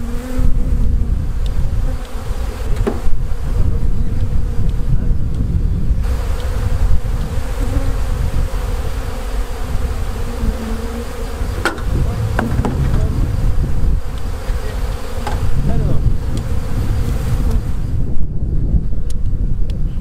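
Honeybees buzz continuously around a beehive as they raise a new queen, a dense, close droning hum with some wind rumble on the microphone and no talk.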